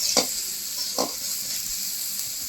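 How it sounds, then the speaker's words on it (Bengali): Steady high sizzle of onions frying in leftover fish-frying oil, with a couple of brief stirring scrapes; no voices. "মাছ ভাজা তেল বেঁচেছিল, সেই তেলে পেঁয়াজ ভাজা হচ্ছে"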